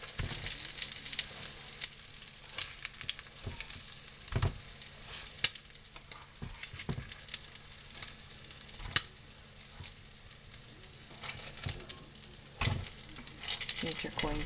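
Chicken patties fry in a pan on a stovetop burner, a steady loud sizzle and crackle with occasional sharper pops and scrapes throughout.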